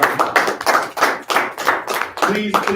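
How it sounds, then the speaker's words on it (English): A small group claps a round of applause for Carlos during a sales team bullpen session. The claps come in quick, close, uneven bursts, and a voice speaks briefly near the end. "give Carlos a round of applause"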